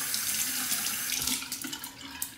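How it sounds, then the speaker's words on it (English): Hot tap water runs steadily into a sink over a synthetic shaving brush, a Simpsons Trafalgar T3 Sovereign Fiber, with a close, continuous hiss and small splashes as the bristles are soaked, no voices. "Soak the bristles under the hot water."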